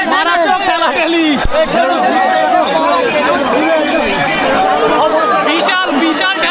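Dense crowd of Shiva pilgrims pressing and jostling at the Tarakeswar festival, a loud continuous babble of many overlapping voices with shouts, close and unbroken throughout.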